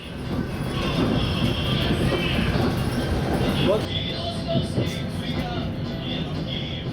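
Passenger train running on the Moscow line near Smolensk, a steady loud rumble of wheels and carriage with a faint whine, heard from inside with background chatter.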